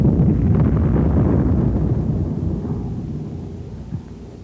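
An 81 mm mortar high explosive shell detonates with a deep, rumbling blast that rolls out loudly and slowly fades over several seconds, with a faint thump near the end.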